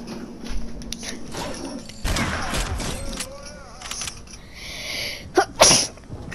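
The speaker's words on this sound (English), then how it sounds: "I sneeze, boy." A single sharp sneeze bursts out near the end, preceded by room noise, thumps and faint voice sounds.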